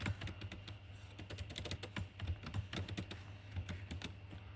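Typing on a computer keyboard at a cafe cashier system: a steady run of soft, rapid key clicks, close and fairly quiet over a constant low hum.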